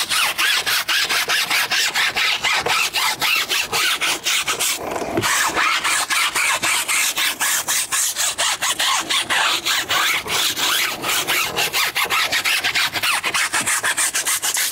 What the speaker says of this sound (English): But I'm still gonna scrub them to get whatever tire dressing that's on here off